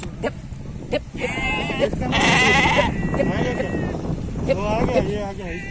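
Goat bleats from a farm animal being ridden near, wavering cries repeating several times over steady wind noise, with people talking throughout.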